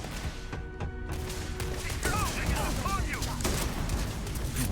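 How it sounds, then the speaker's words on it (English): Shotgun fire from the first-person space shooter Starfield, heavy booming blasts stacked amid dense combat noise, explosions and sci-fi weapon effects, loud and continuous, with occasional talk over the top. "So then we gotta switch to our shotgun."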